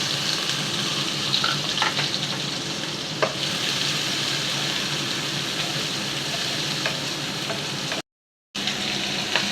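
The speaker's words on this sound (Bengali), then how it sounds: "দিয়ে দিচ্ছি পেঁয়াজ কুচি" Chopped onions with cumin seeds frying in oil in a pan, a loud, steady sizzle with scattered crackles and light stirring scrapes, briefly cut by a short silent gap near the end.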